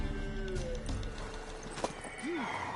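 A mare in Witcher 3 neighs briefly over game ambience, with a short whinny and faint hoof clatter, fairly near and moderately loud.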